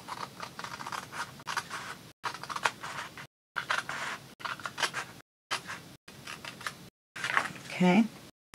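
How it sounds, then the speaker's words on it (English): Scissors cutting straight across a manila folder, repeated short scratchy snips broken by abrupt gaps, close and fairly quiet, with a person talking during the cuts. "And we're going to cut straight across this line."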